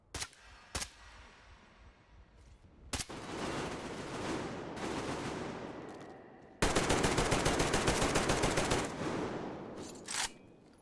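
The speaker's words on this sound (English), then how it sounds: "Now I'm going to start shooting at you with rail guns." Rail gun fire in the video game Metro Exodus, sharp loud reports at irregular intervals followed by a sustained rapid burst of shots, with bright crackling tails between them.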